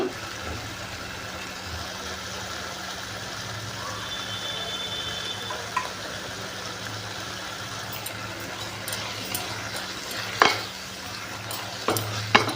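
Green peas and potato curry fry and get stirred in a pan, giving a low continuous sizzle with occasional scraping clatters from the spoon that grow sharper toward the end.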